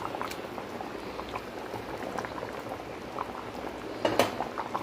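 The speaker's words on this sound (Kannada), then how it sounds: "ಈಗ ಒಳ್ಳೆ ಕುದಿ ಬರ್ತಾ ಉಂಟು ನೋಡಿ ಮಸಾಲೆ ಎಲ್ಲ ಒಳ್ಳೆ ಕುದಿ ಬರ್ತಾ ಉಂಟು" Mutton curry masala boiling in a pot, a steady, close bubbling and popping that keeps up throughout, with a few louder plops near the end.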